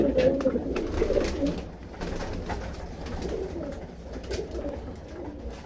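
Pigeons coo repeatedly at a pigeon farm, soft rolling calls overlapping at close range against a low background murmur and some faint rustling.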